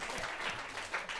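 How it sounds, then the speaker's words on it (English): A brief burst of audience applause at a startup talk, many hands clapping in a dense, even patter at moderate volume. "round of applause for"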